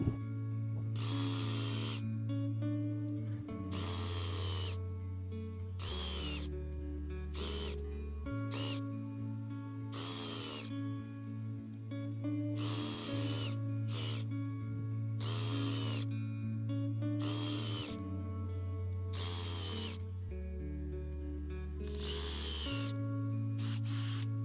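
An auger drills planting holes into garden soil for potatoes, a steady loud motor drone broken by repeated bursts of grinding as the bit bores into the ground, about a dozen holes in quick succession.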